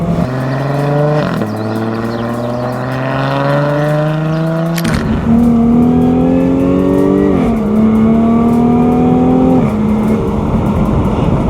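A Jaguar F-type S engine revs hard and loud with no other sound, its whine climbing and dropping through shifts and punctuated by a sharp pop and crackling bangs.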